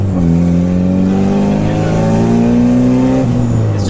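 A turbocharged 1999 Mitsubishi Eclipse running only an open downpipe and no exhaust revs hard, a loud, close, raspy roar that climbs steadily in pitch for several seconds before dropping off.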